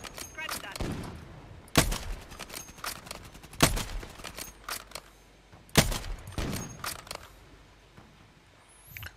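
Gunfire in an online shooter game during a fight around rooftops and a stadium, with several sharp, loud shots at irregular intervals and scattered quieter impacts between them.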